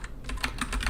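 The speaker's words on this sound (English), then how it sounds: "I'm not typing correctly now" Rapid typing on a computer keyboard, a steady run of close, crisp key clicks with no voices over it, during work on a Next.js app.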